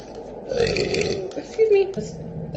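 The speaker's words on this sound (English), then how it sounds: "Burp." Loud, voiced burping from a person nearby, with croaky belches running almost without a break and swelling to a stronger burst near the end.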